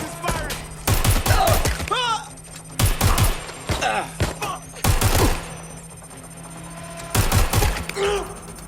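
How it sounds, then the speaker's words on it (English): Bursts of rapid gunfire from the video game Watch Dogs Legion, several loud volleys separated by short pauses, with voices talking in between. "Target is firing."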